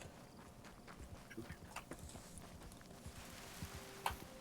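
Horse hooves in the video game Red Dead Online, faint steady clip-clop of a walking horse over a quiet background, with a brief louder knock near the end.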